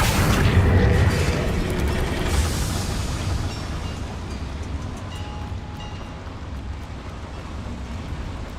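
Explosive Confringo spell blasts in the video game Hogwarts Legacy inside a mine, a heavy booming impact at the start decaying into a loud rumbling, crackling roar that slowly fades.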